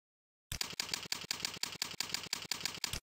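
Rapid, evenly spaced keystrokes on a computer keyboard, about a dozen crisp clicks in a steady rhythm, close and clear with silence before and after, while an attribute name is entered into PrestaShop.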